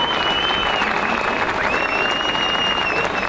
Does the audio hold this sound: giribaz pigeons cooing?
no